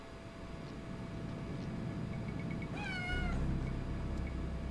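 A single drawn-out wavering meow from a cat in the horror adventure game Phantasmagoria sounds over a low steady ambient hum, followed by a deeper rumble.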